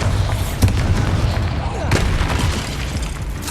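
Bombarda spell explosions in Hogwarts Legacy, two heavy booming bursts about a second apart over a dense, rumbling battle din, loud and close, with voices in the mix.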